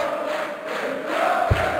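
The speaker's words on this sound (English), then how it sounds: "The crowd are still singing." A darts crowd at the German Darts Masters sings a steady, droning chant that fills the arena, with one brief thump near the end.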